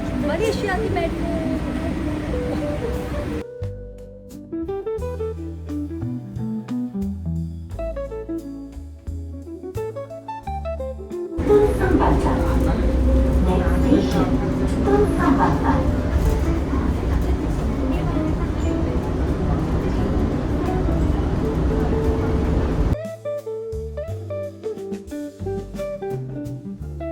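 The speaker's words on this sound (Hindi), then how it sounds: "दुबई के बाद आज मलेशिया की मेट्रो।" Ride aboard a Kuala Lumpur metro train in Malaysia, with continuous rumbling rail and motor noise that swells louder through the middle stretch, drops back near the end, and carries intermittent voices talking over it.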